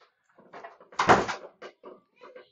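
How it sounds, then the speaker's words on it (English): A door is shut indoors in a home, a single loud thud and rattle in the middle, with a few softer knocks and movements around it. "Lindsay, shut the door."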